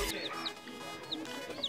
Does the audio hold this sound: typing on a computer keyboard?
no